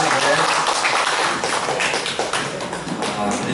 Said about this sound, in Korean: 앞으로 마무리 수고 좀 하시라고 큰 박수 한번 다시 한번 부탁드릴게요